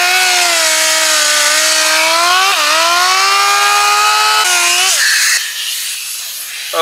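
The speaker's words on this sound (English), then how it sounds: "we're going to DA sand this with our 3000 grit" A dual-action sander wet sanding car paint on an electric guitar body with 3000 grit paper, a loud steady whine whose pitch bends up and down as pressure shifts, cutting out near the end.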